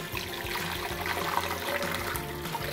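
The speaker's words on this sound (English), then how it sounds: "I'm gonna pour my tea into a blender." Tea poured into a blender, a continuous splashing, trickling stream of liquid heard close up with no talking.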